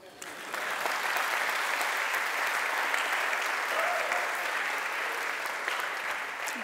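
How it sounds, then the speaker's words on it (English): Conference crowd at a Lambda World 2019 programming talk bursts into applause after a brief quiet start, then keeps up a steady, even clapping until the end. "You should clap now."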